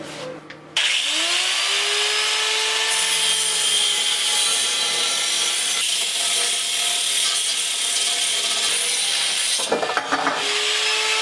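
A tool cuts through a 10-foot pole for a homemade camera jib, a loud, steady grinding whine held for about nine seconds before it briefly stops and starts again near the end.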